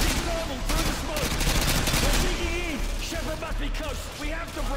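Dense automatic gunfire from Call of Duty: Modern Warfare 2 rattles through the whole passage, with rapid overlapping bursts close and loud, and voices talking over the shooting.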